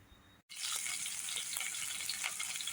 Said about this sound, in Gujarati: તેલમાં મેં રાઈ જીરું અને મરચાં નાખી દીધેલા છે